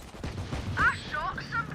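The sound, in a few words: gunfire in the video game Valorant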